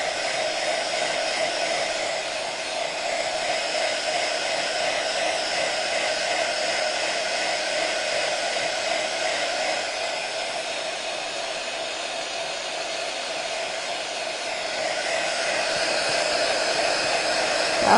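A hair dryer blows continuously and steadily up close over a craft project, a loud, even whir that holds for the whole stretch with no talking.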